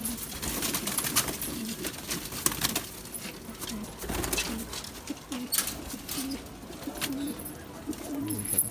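Domestic pigeons, including a lotan breed kept for flying, coo repeatedly at close range in soft, rhythmic low calls, with light rustling and scattered background noises.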